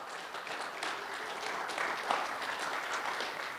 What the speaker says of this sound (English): Can you please give all of our presenters today a big round of applause?